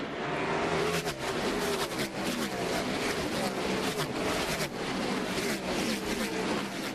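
NASCAR Winston Cup stock cars racing around Martinsville Speedway, a dense continuous engine roar from a pack of cars with fluctuating revs, heard at a distance over race commentary.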